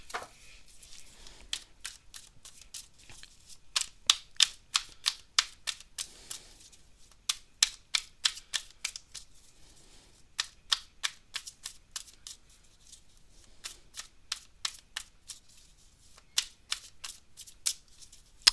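A deck of tarot cards being shuffled, rapid riffling bursts of crisp snapping clicks in irregular runs with short pauses between, close and fairly quiet, no speech.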